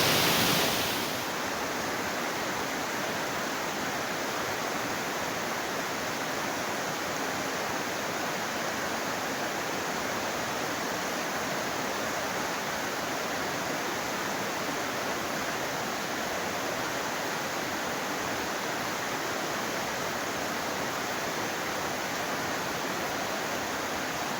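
Canikdere waterfall in Tonya, Trabzon, heard as a constant dense roar of falling water, steady and fairly close for the whole stretch, with no one speaking.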